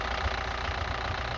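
A cold Hyundai Santa Fe diesel engine idles with a steady, low rumbling drone and faint clatter, loud and continuous with no voices.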